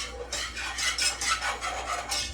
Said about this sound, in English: And you're just going to whisk that together